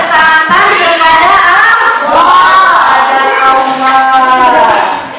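A university classroom group claps loudly and close by, with rhythmic hand claps mixed with a chorus of students' raised voices chanting together for about five seconds before fading slightly at the end.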